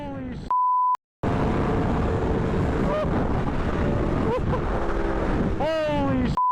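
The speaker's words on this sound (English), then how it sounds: "Oh, the wind?" Strong wind gusts roar across the microphone outdoors during a motorcycle ride, a loud, continuous rushing broken by a brief beep and a short dropout, with voices heard faintly beneath.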